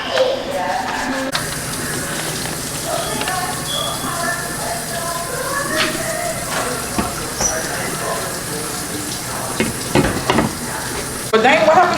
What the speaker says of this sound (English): I'm finna let these simmer